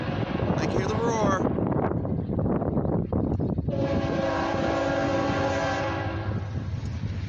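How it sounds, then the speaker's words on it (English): A westbound CFE mixed freight and grain train approaches with a loud, rising rumble. Midway its horn sounds in a long, steady blast, and a voice is heard briefly over the noise early on. "I can hear the roar of that train, baby."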